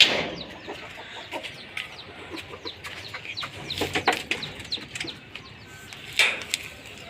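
Backyard hens cluck in scattered short bursts at a modest distance, with occasional sharper squawks over a quiet outdoor background.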